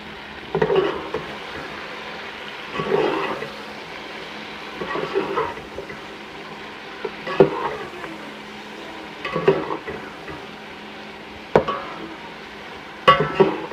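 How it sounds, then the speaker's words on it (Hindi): Chicken going into a pot for chicken chana pulao, with a steady close sizzle of frying and regular scraping stirs every couple of seconds, no voices. "अब हम इसमें चिकन डालेंगे।"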